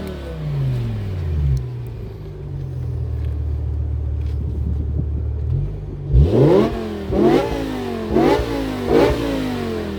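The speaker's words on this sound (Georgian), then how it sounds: "ესაა სრულიად სტანდარტი მანქანა. ბაჩოკები ყველაფერი ქარხნული აქვს და აქვს ეგეთი ხმა." A completely stock car with factory exhaust idles with a low droning rumble, then revs sharply four times in close rhythmic bursts, loud and near in a workshop.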